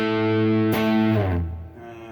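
Squier Tom Delonge Strat electric guitar through a light-gain overdrive: a sustained chord rings, then a second strummed chord rings out and fades, close and clear with no talking.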